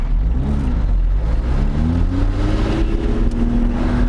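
A 2020 Lotus Evora GT accelerates with its engine droning and a rising supercharger whine, heard loud and steady from inside the car with no talking.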